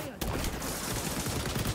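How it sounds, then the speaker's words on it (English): Light machine gun fire in the video game XDefiant, a sustained close rattling burst that opens abruptly after a brief pause and runs unbroken to the end. "I can't get over how hard the LMGs fry in this game"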